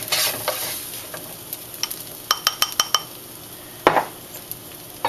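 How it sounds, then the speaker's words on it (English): Eggs are scrambled in a hot wok with grapeseed oil: a soft sizzle runs under a quick series of metallic scrapes and clinks from a utensil against the pan, close and clear, with no talk. "Just to scramble the egg."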